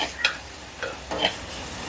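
A few short scrapes of a spoon stirring chilli and pepper powder into softened, sautéed tomatoes in a pan, three soft clicks spaced apart over a faint background hiss.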